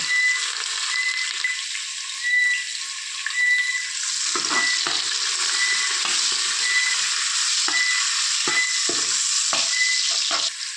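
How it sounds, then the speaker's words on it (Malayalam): Sliced shallots fry loudly in a pan with cinnamon and cloves and get stirred, giving a steady hiss broken by scraping strokes of the spoon, with a high whistle-like tone sounding in short, repeated bursts. "വലിയുള്ളി മാത്രം ഇട് ഇട്ടോ ആ മതി ഇളക്കിയോളൂ"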